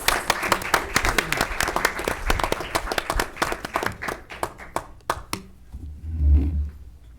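An audience at a school district board meeting breaks into a round of dense, sustained clapping that thins out near the end, with a low murmur underneath.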